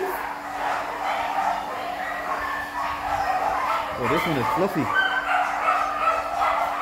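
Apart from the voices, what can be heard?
dogs barking at an animal shelter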